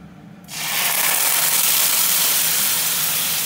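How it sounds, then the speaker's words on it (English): Dinner stir-frying in a pan erupts into a sudden loud, steady sizzle that starts abruptly after a brief quiet moment and holds strong to the end. "you're stir frying it, really"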